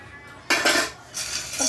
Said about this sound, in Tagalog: Hugas plato ba?